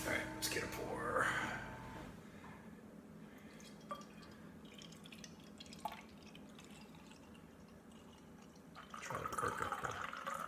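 Beer poured into a glass, splashing and fizzing loudly at the start, then a softer stream and trickle, with a brief voice and some faint handling noises before the liquid sound swells again near the end.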